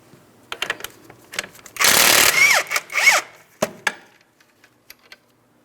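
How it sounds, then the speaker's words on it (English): Impact wrench or ratchet spinning off a 21mm front strut mounting nut on a 2004-2008 Pontiac Grand Prix, with a loud sustained whirring burst of about two seconds, set among scattered clanks and taps of metal tools. "Go ahead and remove the mounting nut."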